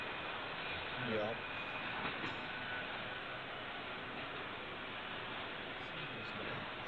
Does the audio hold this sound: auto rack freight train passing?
yes